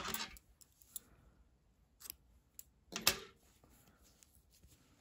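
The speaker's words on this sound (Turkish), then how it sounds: "İpliği kesiyorum." Scissors snip through yarn during a crochet project, a few short crisp cuts spaced apart, close and fairly quiet with no talking.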